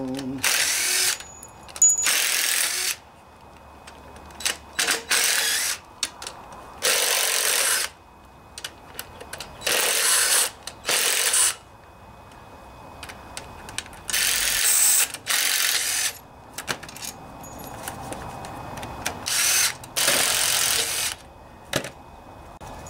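A hand ratchet loosens half-inch bolts on the oil pan of a Briggs and Stratton Intek V-twin engine, giving a dozen or so rapid clicking bursts separated by short pauses, close and clear with no talk.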